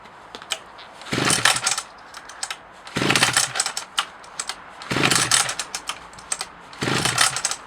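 Four rough, buzzing bursts come from a Homelite 600 D chainsaw being pull-started with the choke on, evenly spaced about two seconds apart. Each is a brief, close rasp that fails to catch into a steady idle.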